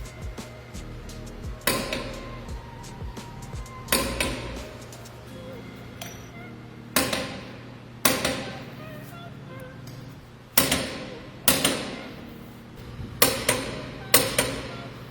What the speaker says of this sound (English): It's not easy, at least with this huge torque wrench